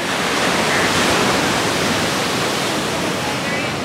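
Ocean surf rushes constantly below a beach restaurant in El Salvador, a loud, broad, unbroken wash of waves with no distinct individual breaks.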